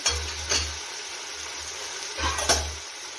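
Spoon stirring vegetable paneer pulao in a pan after turmeric and chopped coriander go in, a few soft scraping strokes over a low sizzle, close by with no talking.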